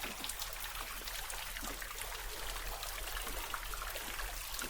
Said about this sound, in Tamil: கொஞ்சம் கொஞ்சமாக சொட்டு சொட்ட வர தண்ணிகள்லாம் இதை வந்து கொண்டிருக்குது